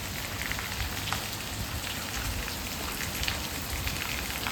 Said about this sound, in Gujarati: કેટલો બધો વરસાદ છે બહાર